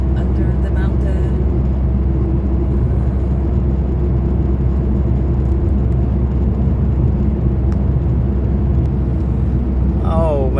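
A car drives through a long road tunnel beneath a mountain, with a steady, loud, enveloping rumble and whir of tyres and engine that holds unbroken throughout.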